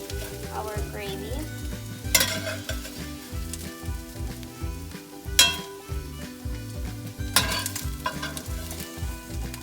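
Browned paneer cubes sizzling in a pan of tikka masala gravy while a spoon stirs them, a close, steady frying hiss broken by a few sharp scrapes and clinks.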